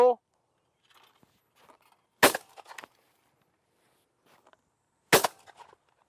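Over-under shotgun fired at sporting clays: two loud, sharp shots spaced about three seconds apart, each trailing a short echo, with faint movement and quiet outdoor background between them.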